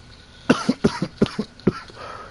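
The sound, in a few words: cough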